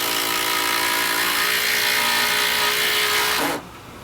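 A Milwaukee 12V drill/impact driver drives a screw with a steady, loud whirring buzz for about three and a half seconds before cutting off sharply.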